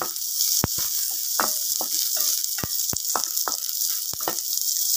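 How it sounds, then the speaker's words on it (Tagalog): Red and white onions sautéing in a pan, a steady close sizzle with sharp crackles and pops from a spoon stirring through it, continuous for the whole stretch with no talking. "saute until the onion is translucent"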